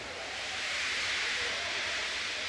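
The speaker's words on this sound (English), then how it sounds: "He just let off steam feebly." A steam locomotive in the Trainz simulator lets off steam as a steady, loud broadband hiss that swells slightly and holds for a few seconds, with no talking.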